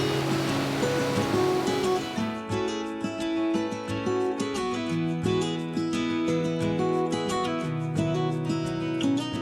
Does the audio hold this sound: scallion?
no